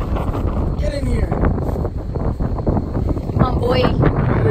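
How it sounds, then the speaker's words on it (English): Strong wind buffets the microphone in a steady, loud roar throughout by a muddy river during fishing, with a voice talking underneath. "It's really windy. It's super windy."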